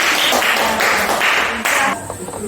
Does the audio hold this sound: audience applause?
yes